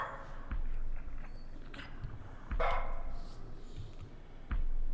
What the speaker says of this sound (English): No, dog!